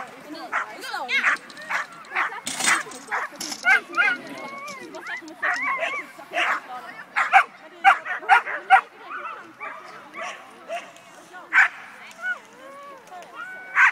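A dog at an agility run in Falkenberg gives repeated sharp barks and yips throughout, mid-distance, while an announcer talks over a loudspeaker.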